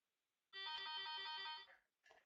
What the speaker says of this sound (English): Sorry, I have to switch off this phone. I thought I switched it off, but I didn't.